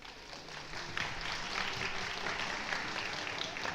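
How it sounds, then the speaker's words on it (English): Audience applause at a school speech contest, a quiet, even patter of many hands clapping that swells a little after the first second and continues steadily. "Now let's give up applause for all this section"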